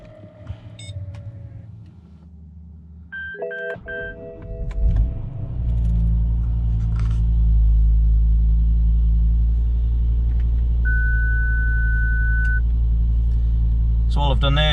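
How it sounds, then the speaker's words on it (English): A BMW E60 sedan sits quiet with a few chimes, then its engine cranks and catches near the four-second mark and settles into a steady, close idle rumble, with a brief electronic tone partway through. "we'll start the car up"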